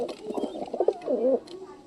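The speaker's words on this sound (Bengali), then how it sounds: "আর এখানে হুমা কবুতরের মুখে কবুতরটা রেখে দিচ্ছি জোড়া দেওয়ার জন্য।" Pigeons coo up close, a few soft throaty rolling calls overlapping in quick succession before fading out.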